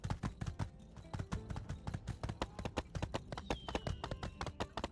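Horse hooves clip-clopping in a video game, a quick steady run of crisp close knocks at a trotting rhythm with no talk over it.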